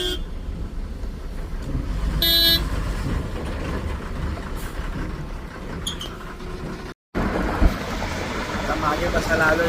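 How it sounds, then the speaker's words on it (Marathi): Dense road traffic on a highway out of Thane, with a steady roar of engines, a brief bright horn toot near the start and another later, and people talking over the din. "भयंकर असं ट्रॅफिक झालं."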